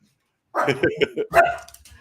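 An excited dog gives a quick burst of close barks and yips as someone arrives home, the short cluster rising abruptly from silence and mixed with vocal sounds.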